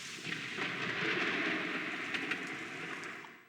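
Steady hissing rain with a low rolling rumble of thunder that swells and fades, a few sharp crackles on top, in the video game Suikoden.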